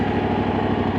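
A vehicle engine runs steadily and loud at close range on a forest outing after a storm, a continuous throbbing drone with no talking.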